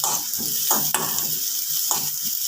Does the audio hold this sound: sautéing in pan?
yes